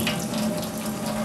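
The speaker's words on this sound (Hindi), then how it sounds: "तो मैं ये पानी को फेंक देती हूँ" Hot water is poured away down a drain in a home kitchen while cooking mutton head, making a steady, splashing stream of running water at close range with no talking.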